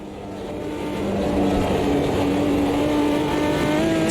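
A stock car engine in the Automobilista 2 racing sim revs rough and raw, rising through the first second into a loud, sustained, climbing drone with harsh tonal whine and no talking.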